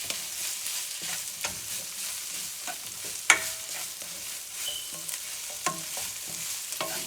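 Rice and Cajun sausage heating together in a pot for low country hoppin' john: a steady soft sizzle with scattered stirring scrapes and light clicks, one sharper clatter midway, no talking.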